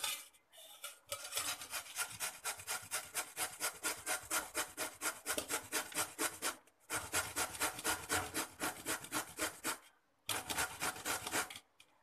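Bottle gourd rubbed over a kitchen grater for an akki roti batter, a quiet, steady rasping rhythm of rapid strokes with a few brief pauses, close by and without speech.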